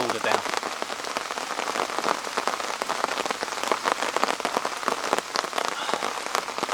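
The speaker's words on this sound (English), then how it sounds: "Gives the woods a whole different dimension when it's raining." Steady rain falls through foggy woods around a tipi camp, a dense hiss of drops pattering on leaves and surfaces without pause, close and even throughout.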